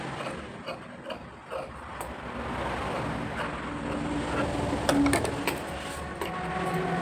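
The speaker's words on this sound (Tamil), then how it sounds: "இந்த பக்கத்தையும் தச்சுக்கிறோம் ஜாயின் பண்ணிட்டேன்" A sewing machine stitching the seam of an old blouse being let out, with a continuous mechanical whir and rattle, brief pauses early on, then steadier running with a few sharp clicks around the middle.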